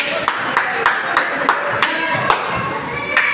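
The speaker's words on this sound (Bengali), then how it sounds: "জোরে হাততালি দাও" Loud, sharp hand claps, roughly ten in a loose rhythm, aimed at a clap-activated lamp at a science centre in Digha, close by with faint crowd murmur and voices in the background.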